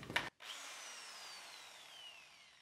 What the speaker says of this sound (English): here I'm drilling a 1/4-inch hole, which is perfect for my raw plug